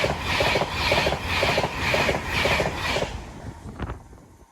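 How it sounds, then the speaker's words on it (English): A train rolls past at Wedgwood, its wheels beating out a regular clickety-clack rhythm over rail joints, loud and close at first, then fading as the cars move away. "we now have another train coming through."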